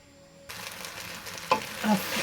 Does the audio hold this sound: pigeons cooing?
no